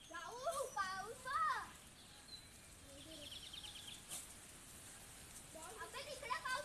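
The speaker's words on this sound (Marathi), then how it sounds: "तिकडे पाऊस पडतोय पण इकडे पडतच नाहीये." Distant rain falls as a soft, steady hiss in the background during an outdoor Ganesh festival gathering, with children's voices and chatter rising over it.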